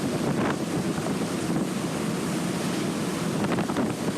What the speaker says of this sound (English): The wind coming off the ocean is just really incredible